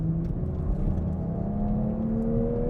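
Engine of a manual Toyota GR Supra pulling hard out of the final corner on a hot track, a loud steady in-car drone with rising engine tones.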